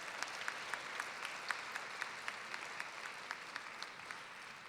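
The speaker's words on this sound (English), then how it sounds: "A round of applause again for all of our candidates tonight." An awards gala crowd applauds the Nurse of the Year finalists, a fairly quiet, even patter of many hands with individual claps standing out, no voices over it.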